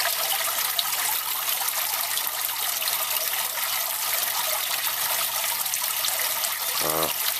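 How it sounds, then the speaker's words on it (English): Water steadily trickling and splashing through 1/8-inch holes drilled in the floors of 41-quart Rubbermaid tubs in a koi fry filtration setup, a dense continuous patter without pauses, fairly loud and close. "I drilled 1/8-inch holes every square inch on the floor of the tubs to allow the water to trickle through"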